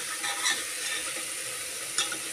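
Small pieces of eggplant and potato sautéing in a pan, a steady bright sizzle throughout with a couple of soft stirring scrapes, no voices.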